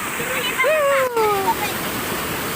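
Rushing river water roars steadily as a loud broadband wash near a rural province home, with a voice exclaiming over it partway through.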